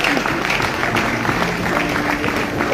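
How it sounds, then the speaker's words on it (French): A congregation applauds in praise of the Lord at a weekend celebration, a broad, even wash of clapping with a faint crowd murmur and some voices mixed in, steady across the clip and swelling slightly at the end. "Est-ce qu'on peut applaudir le Seigneur?"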